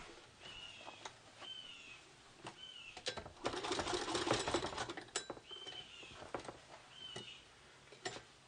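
Sewing machine stitching together bag lining fabric for a Victorian-style handbag, with short runs of stitching separated by pauses and a louder, denser burst in the middle; faint clicks and handling noises between runs.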